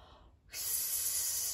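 A singer draws in a long, loud breath through an open mouth during a breathing exercise, the inhale rushing in suddenly and held steady for about a second.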